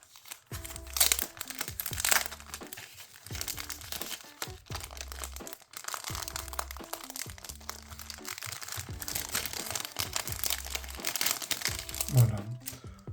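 A well-packed parcel of Pokémon boosters is unwrapped, with crinkling and tearing of packaging in repeated bursts close by, under on-and-off speech.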